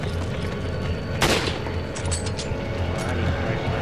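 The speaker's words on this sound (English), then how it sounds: "Whoa, random explosion." A single sharp blast in the video game Resident Evil 5, a loud sudden crack with a brief rumbling tail, amid ongoing game ambience and faint gunfire-like pops.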